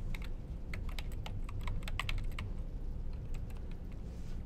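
Rapid typing on a computer keyboard, with quick irregular bursts of crisp key clicks close up, then a brief lull before a few more scattered taps.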